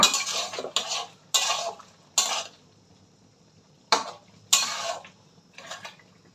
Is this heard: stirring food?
yes